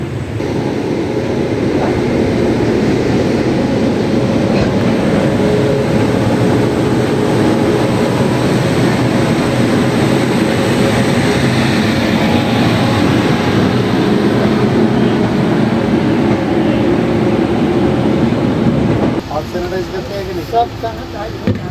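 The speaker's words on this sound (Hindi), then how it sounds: "देखो पिकअप कैसे बना दी, मैं खड़ा हूँ देखो, और ये कितनी तेज़ आ रही है।" Purushottam Express accelerating at high speed, a loud continuous rushing rumble of the moving train heard from on board, steady for most of the clip before shifting near the end.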